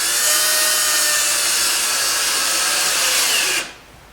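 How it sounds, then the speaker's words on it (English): A power drill with a number 1 Phillips bit driving small number 4 wood screws into a wooden fence: a continuous high whirring spin, close and loud, that stops abruptly near the end. "we put the screws in. In this case I'm using some small number 4 wood screws"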